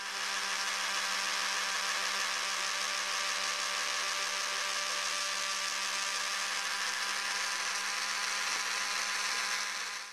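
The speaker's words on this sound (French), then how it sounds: "Nous allons ensuite percer le trou de ces 2 poteaux de renfort." A small power drill runs continuously with a steady high whine, boring holes in two HO-scale model fence reinforcement posts clamped at 45 degrees to a board, close and alone throughout.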